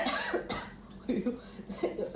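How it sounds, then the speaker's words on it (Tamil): A few short, muffled coughs come in a loose rhythm over quiet background noise. "இருமல் வந்துருச்சு"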